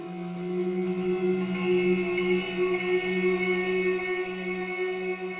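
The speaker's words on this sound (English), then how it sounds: "I've put a bit crusher on there, and I've down sampled it" A harsh, buzzy sustained synth tone with gritty, crunchy bitcrushed and downsampled digital distortion, steady and droning with a brighter shift partway through.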